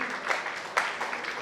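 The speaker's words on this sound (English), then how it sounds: "I think one round of applause for her." Brief scattered clapping from guests at a wedding reception, honoring a singer after her song; a few sharper claps stand out over a soft murmur.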